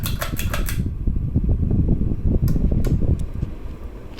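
A 56-inch brass Gulf Coast Tiara ceiling fan with stamped steel parts runs on high, giving a steady close whoosh of moving air. Its large blades make a rhythmic ticking flutter at the start and again near the end.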